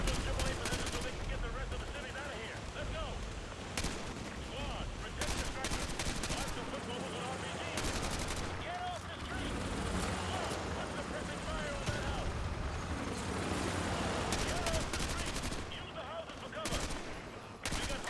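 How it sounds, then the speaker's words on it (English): Sustained anti-aircraft gunfire from Call of Duty: Modern Warfare 2 Remastered, a dense continuous barrage of rapid shots and booms with distant explosions, steady and loud throughout with a voice talking over it. "Look at the anti-aircraft guns."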